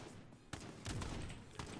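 Faint bursts of gunfire from the Call of Duty Warzone battle royale game, a few sharp shots at irregular intervals over a low, noisy background.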